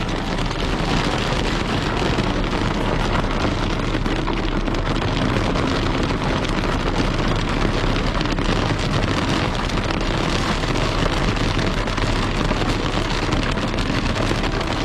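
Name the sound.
rainstorm with hail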